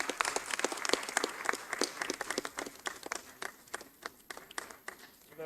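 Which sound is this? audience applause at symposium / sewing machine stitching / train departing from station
audience applause at symposium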